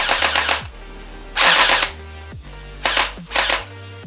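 An FN-SCAR PUBG-style fully automatic toy gun fires simulated shots: four loud electronic bursts of rapid automatic fire, each under a second long, separated by short pauses.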